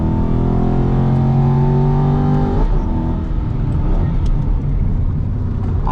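An Aston Martin V8 Vantage's big V8 pulling hard in third gear on the Nürburgring, a loud onboard engine roar with a rising tone that breaks with a gear change, then continues as a dense drone.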